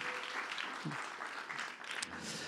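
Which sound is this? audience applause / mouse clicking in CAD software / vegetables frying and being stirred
audience applause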